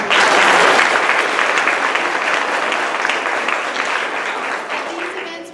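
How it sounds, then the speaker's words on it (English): Applause from an audience at a school board literacy tour event, thick continuous clapping that starts loud and slowly tapers over several seconds, with no voices standing out. "Let's give them a round of applause."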